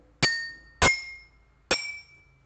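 Three glasses holding different amounts of water are tapped one at a time, each strike a sharp clear ring at a different pitch that fades quickly, spaced about half a second to a second apart in a quiet room.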